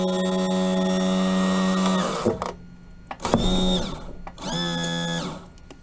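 A boat's hydraulic trim system whines loudly with a steady motor tone, stops abruptly, then runs again in two shorter bursts separated by clicks and quiet gaps.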